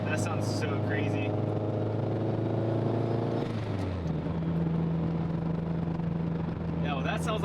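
A turbocharged Subaru GM6/GC8 2.5RS engine idles steadily, then the tone drops as it settles into a lower idle, with short hissing bursts from a Tial blow-off valve venting at the start and end.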